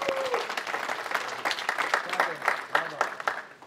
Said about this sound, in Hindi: उनके लिए बहुत सारी तालियां बजाएं